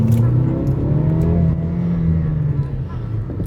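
A car accelerates hard in sport mode, its engine note rising steadily and loud from start to finish, with a voice speaking faintly underneath.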